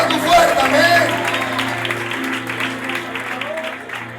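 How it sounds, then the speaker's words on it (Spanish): A church congregation at an anniversary service claps, a loud burst of applause that swells early and then thins while a voice speaks over it. "Aplaude con toda tu fuerza, amén."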